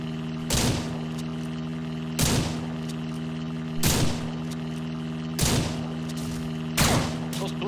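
Five evenly spaced gunshots ring out from a gun in the farming game Ranch Simulator, each a loud sharp crack with a short tail, over a steady droning hum.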